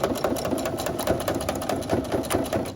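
Sewing machine back stitching to secure the handle of a reusable fabric shopping bag, a close, loud, steady rapid mechanical whirring and stitching rhythm with no talking.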